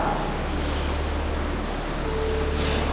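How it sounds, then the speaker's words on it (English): Running water flowing through a rocky passageway at Holywell Bay, Cornwall, a steady, close wash of broadband noise that holds evenly throughout with no pauses. "You can hear the running water."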